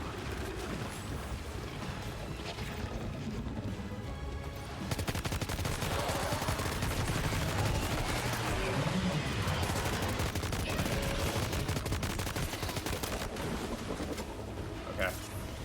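Assault rifle fire in Death Stranding 2 rattles in rapid automatic bursts that build and run almost continuously from about the five-second mark, loud and close, with a person talking over parts of it.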